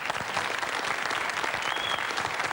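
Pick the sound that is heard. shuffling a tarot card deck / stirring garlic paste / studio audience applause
studio audience applause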